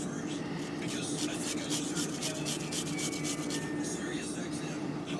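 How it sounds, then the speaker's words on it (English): Garlic cloves scraped over a plain metal grater, a steady close rasping rub running the whole time with fine repeated scratchy strokes. "you're going to grate those with your plain grater also"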